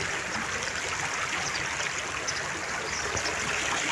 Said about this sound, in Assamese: পানী মাতটো শুনিছে চাগে আপোনালোকে